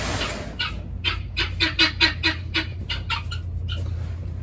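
Guinea fowl on a homestead give a run of harsh, rhythmic clucking calls, about a dozen bursts in quick succession, fairly close and loud over a low steady hum.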